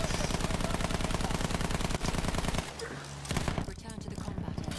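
Rapid machine-gun fire from a World War I era Battlefield 1 air combat game, dense and loud for over two seconds, breaking off briefly and then resuming in bursts, with a voice speaking over it.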